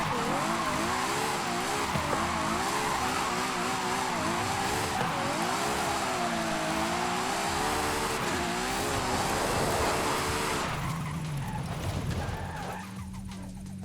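A Ferrari J50 races in Forza Horizon 5, its engine note rising and falling through gear changes with tire squeal and skidding, loud and continuous, then cutting off abruptly near the end.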